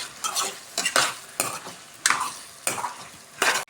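A spoon stirs chopped raw plantain with ginger paste in a hot pan, making repeated scraping, sizzling strokes in a steady rhythm, close and clear with no talk.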